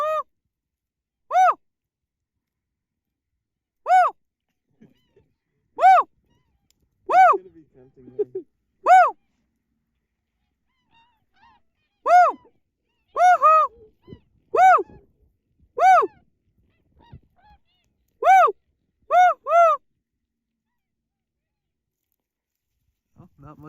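Snow geese calling on a waterfowl hunt, a series of clear, separate honking calls spaced irregularly, some in quick pairs, against near silence.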